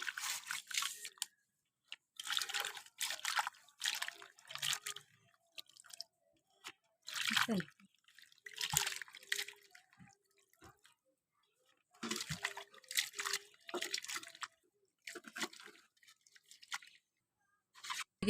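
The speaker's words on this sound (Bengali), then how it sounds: "এখন আমরা সুন্দর করে আমগুলি ধুয়ে নিচ্ছি" Mangoes being washed by hand in water, with repeated splashy sloshing and dripping bursts separated by brief pauses, close and moderately loud, no talking.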